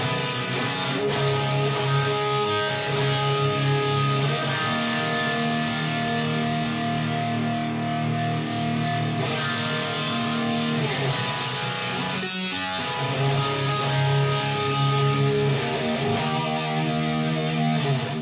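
Heavily distorted, overdriven Fender Telecaster Plus electric guitar playing chords and riffs, loud and sustained with brief pauses and pick attacks throughout.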